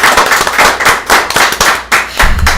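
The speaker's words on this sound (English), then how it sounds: "Let's give them a round of applause again" Audience clapping at a music show event, loud and close with sharp, rhythmic bursts of claps pulsing in regular waves, no talk over it.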